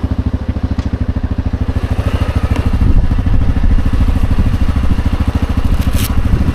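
An ATV engine runs steadily while riding along a rural road, a loud, close, throbbing drone with fast regular pulses that rises slightly in intensity partway through, with no talk over it.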